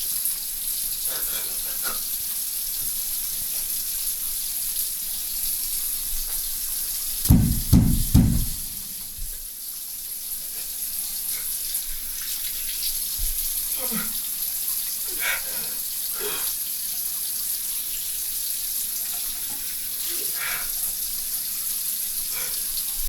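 Tap water runs in a steady, continuous hiss throughout, with a brief louder knocking clatter partway through and a few faint incidental sounds.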